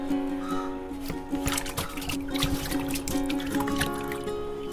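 Shark fish being washed by hand with water, giving continuous splashing and trickling with scattered sloshes and knocks, moderately close with no talking.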